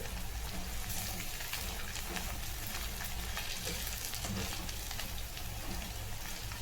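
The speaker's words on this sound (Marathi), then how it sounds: "मंद आचेवर तळून घ्यायचं आहे एक तीन चार मिनिट असं परतून घ्यायचं आहे" Potato bhaji fritters made with bhagar (barnyard millet) flour frying in oil over a low flame, giving a steady, even sizzle and crackle with no voices.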